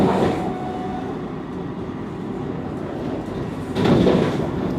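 A Vande Bharat Express train runs steadily along a single line as it approaches Danishpet station, a continuous rumble heard from inside the AC chair car, swelling louder near the end.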